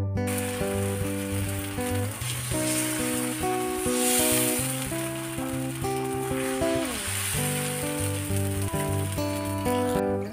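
Palappam batter spread over a hot tawa gives a steady, close sizzle that holds at an even level throughout, with no talking.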